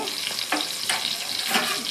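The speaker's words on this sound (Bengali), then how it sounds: "রসুন লঙ্কা বাটা দিয়ে ভালো করে কড়াইতে নেড়ে নেব" Shrimp stirred with garlic-chili paste in a wok, giving a close, continuous frying sizzle with a few soft scraping strokes of the spatula.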